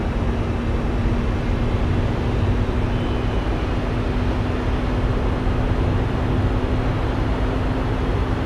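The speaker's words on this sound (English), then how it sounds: "Sounds like a broken rotary engine." Car engine in Gran Turismo 4 with a rough, broken rotary-like sound: a steady loud droning hum with a sustained low tone, running continuously without breaks and with no talking.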